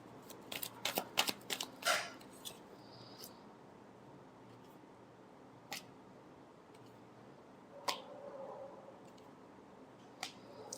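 Tarot cards get a final shuffle at close range, a flurry of quick papery snaps and riffles early on, then a few isolated soft flicks and taps against quiet background hiss.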